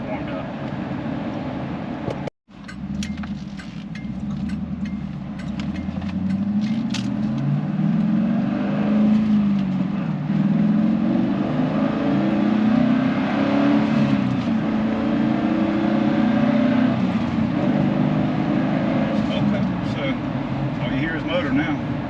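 A 4th gen Chevrolet Camaro SS V8 driving up the road, its engine droning loud and close with rising and falling revs as it pulls along, a brief cut near the start.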